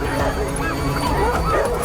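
Dogs bark and yip amid a dense, loud soundscape from a drama series, with constant background noise and babble blending into the barking throughout.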